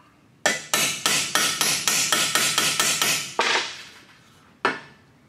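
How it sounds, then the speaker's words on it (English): Steel rear differential cover from a 2016 Ford E-450 motorhome hammered straight on a vise: about a dozen quick, evenly spaced ringing metallic blows, then two slower, separate strikes, loud and close with no talk. "So I'm going to put it on the vise here and just straighten it out just a little bit."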